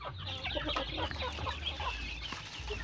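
Indonesian village chickens cluck and peck busily at feed, a flock close by with overlapping soft clucks and rustling, fairly faint.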